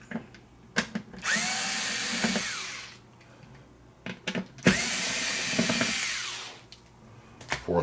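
A power screwdriver backs screws out of the circuit board inside a Vizio M492i-B2 TV, giving two sustained whirring bursts of a few seconds each, separated by brief clicks and handling noise.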